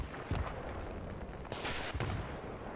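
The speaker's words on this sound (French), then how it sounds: "Vous voyez, un mortier, tout ce qui peut servir à dégommer." Mortar and gunfire in a Battlefield 3 multiplayer match, with booming impacts and shots over a dense, rumbling battle din, close and continuous, with no voices.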